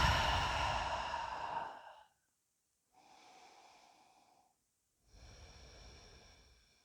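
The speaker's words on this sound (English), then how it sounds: "Deep inhale and exhale through your mouths." Deep breaths through the mouth during a yoga session: a long airy exhale, a quieter inhale after a pause, then another breath starting, each close and unhurried with silent gaps between.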